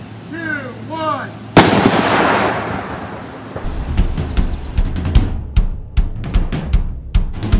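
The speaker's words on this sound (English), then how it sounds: "We've got a 1 pound charge of nitromethane and nitric acid." A one-pound charge of nitromethane and nitric acid goes off in a single loud, sharp blast after brief voice sounds, followed by a long rumbling decay and several scattered thuds and crackles.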